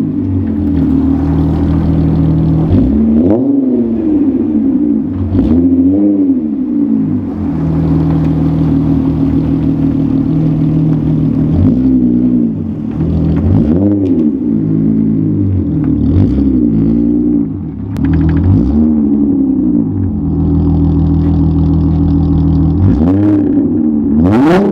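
A VR6-engined Volkswagen Jetta is revved repeatedly while parked, each blip rising sharply then falling back to a loud, throaty idle, with several rev bursts spread over the span and no talk.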